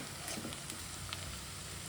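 Beetroot hits a hot pan for palya, giving a steady close sizzle with faint crackles throughout the short moment, no talking over it.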